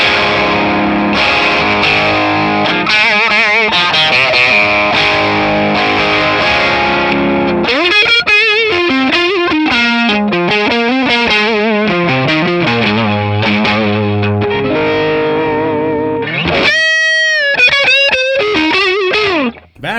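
An electric guitar played through a Guv'nor-style overdrive pedal modelled on a ToneX rig, with a crunchy distorted lead of sustained notes and phrases. It plays loud and continuous and alone, with a brief gap near the end.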